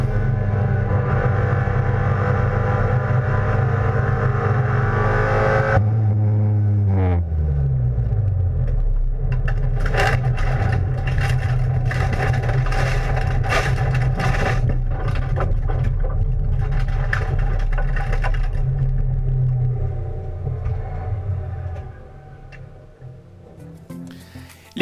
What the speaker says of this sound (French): une casse moteur qu'on vous invite à vivre également en caméra embarquée